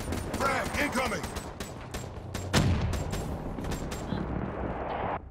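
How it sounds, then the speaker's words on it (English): Gunfire from the Call of Duty Black Ops 3 multiplayer beta on Xbox One: many sharp shots and automatic bursts, some near and some farther off, along with a swooping whoosh partway through. "I know you're under that bridge, and I know you're shooting at me."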